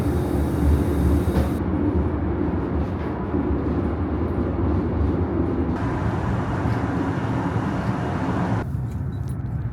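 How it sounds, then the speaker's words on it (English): Steady, loud rumble and rushing noise inside a high-speed train carriage running above 300 km/h, continuous throughout with slight shifts in tone, no voices. "The train is running above 300 kilometers per hour now"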